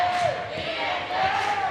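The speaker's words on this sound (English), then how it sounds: "Panther fans cheering PHS" Basketball fans cheer in a high school gym during a game, a steady roar of crowd noise with some shouting running throughout the clip, close and loud.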